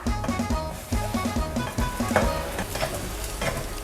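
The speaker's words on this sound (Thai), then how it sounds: "นี่ก็จะนำไข่นะคะลงไป ผัดเลยค่ะ ผัดไข่ให้แห้งเลยนะคะ" Eggs are stir-fried with golden fried garlic in a pan, crackling and sizzling close up as a spatula knocks and scrapes in a quick, repeating rhythm.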